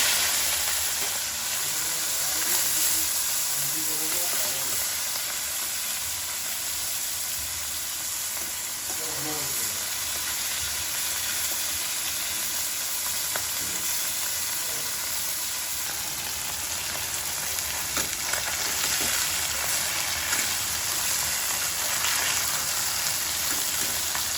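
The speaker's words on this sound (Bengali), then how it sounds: "এবার মাছ ছাড়বো, মাছটা ভেজে নেব" Morola fish frying in hot oil, a dense steady sizzle and crackle close by that holds for the whole stretch, with a couple of faint soft knocks early on and no talking.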